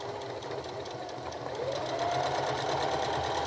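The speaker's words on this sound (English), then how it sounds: "if I start pressing on the pedal, it will slowly start to feed the fabric through and it'll start to sew." Sewing machine starting up and feeding fabric with a pedal, a steady rapid stitching chatter that builds slightly in intensity, alone and close.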